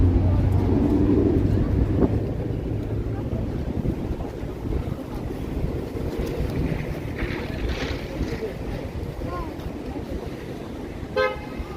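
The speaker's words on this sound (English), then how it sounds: "It's a bit of a wind tunnel here." Steady, loud wind roars across a busy city street at Yonge and Eglinton in Toronto, a gusty wind-tunnel corner, buffeting the microphone continuously with traffic rumble and a brief horn toot underneath.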